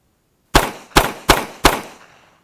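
A handgun fires four sharp, loud shots at a quick, fairly even pace, each one ringing out and decaying before the next, then the clip falls silent. No beep can be picked out ahead of them.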